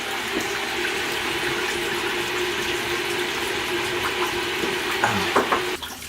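Banana beer pours steadily into a fermenter as a continuous close gushing, splashing stream that runs the whole time with slight gurgles toward the end.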